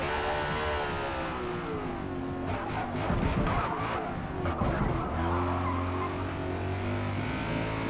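A BMW race car in Forza Motorsport runs hard at speed, its steady engine drone overlaid by a burst of tire skidding and squeal midway through cornering, loud and close.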